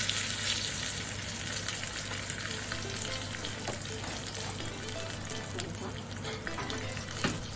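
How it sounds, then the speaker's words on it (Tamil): Curry leaves drop into hot oil with a pinch of asafoetida for a crab rasam tempering, giving a steady, close, bright sizzle that holds through the whole stretch with faint stirring and no talk. "இப்போ நம்ம கடைசியாக ஸ்டவ் கேஸ் ஆஃப் பண்ணிவிட்டு கறி லீவ்ஸை போட்டுடலாம்"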